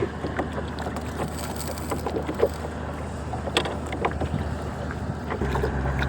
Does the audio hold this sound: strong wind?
yes